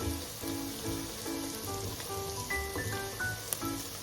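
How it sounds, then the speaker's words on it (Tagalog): Onion sautéing in a pan for pav bhaji, a steady close sizzle and crackle of frying under faint background music. "gigisahin po natin ang onion hanggat sa maging transparent na siya"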